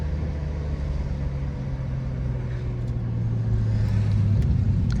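A tuned BMW 335i rumbles steadily with a low exhaust drone while driving in traffic, swelling slightly louder toward the end without any sharp pops.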